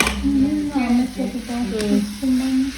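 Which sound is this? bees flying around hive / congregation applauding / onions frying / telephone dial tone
onions frying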